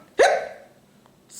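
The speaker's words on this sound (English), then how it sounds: "Now, Donald, I heard you have the hiccups, right?" Donald Duck's voice gives one sudden, loud, squawky hiccup in a Disney Muppets sketch, then a brief faint sound follows in near silence.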